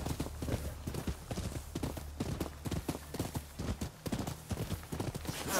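Horse hooves clip-clop in a steady galloping rhythm throughout the Rise of the Ronin video game, fairly close and loud, with no talk over them.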